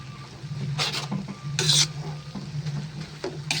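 A spatula stirs pancit bihon rice noodles in a sizzling pan, with a few scraping strokes and soft clatters over a low, steady background hum.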